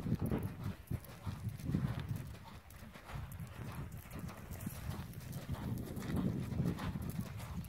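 Steady clip-clop of a ridden horse's hooves during a schooling session with a bridle and spurs, moderately near, with a continuous rhythmic plodding under quiet ambient noise.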